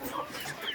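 Chickens on a backyard poultry farm raised in cages cluck together in a dense, continuous chatter, close and moderately loud.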